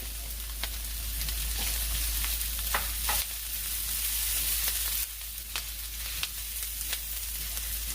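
Onions and garlic sauté in rendered fat in a pan with thyme, a steady close sizzle with occasional stirring scrapes and clicks and a brief drop in level partway through.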